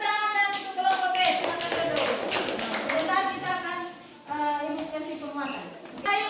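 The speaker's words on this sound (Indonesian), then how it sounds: "kalau begitu tepuk tangan dan untuk kelompok B" A classroom group applauds: a crowd of children clapping in brisk overlapping rhythm with voices chattering and calling out over it, easing briefly before resuming.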